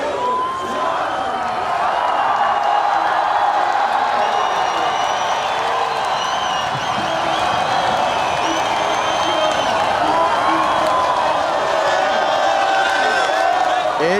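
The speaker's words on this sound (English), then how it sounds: "as you can hear, listen to the crowd" Crowd roars and cheers on the beach at Saquarema as the 2017 Oi Rio Pro surfing final ends, a loud, sustained wash of voices with whoops and scattered clapping that holds steady throughout.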